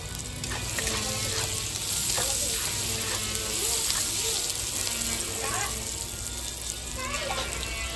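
Brinjal pieces sizzle and crackle in hot oil in a pan, a steady frying hiss that swells at times, with children's voices and chatter in the background.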